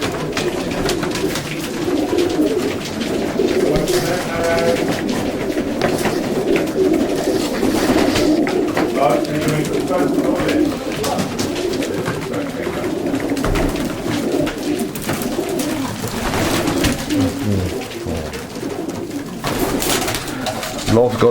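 Racing pigeons coo continuously inside a multi-compartment loft in KwaZulu-Natal, a dense overlapping chorus that stays loud and close throughout, with people talking faintly now and then.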